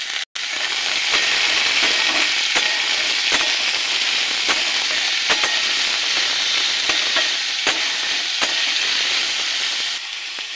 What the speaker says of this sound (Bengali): এবার একটু ভালো করে ভেজে নেব